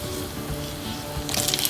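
Dried red chillies and mustard seeds sizzling in sesame oil, a low steady hiss close by that swells into a brighter, crackling spit toward the end.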